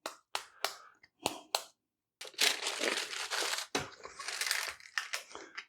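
Parchment paper crinkles and crackles around a quarter pound of ground beef pressed into a pre-smashed burger patty, in sharp separate crunches and then longer continuous rustling, close and clear.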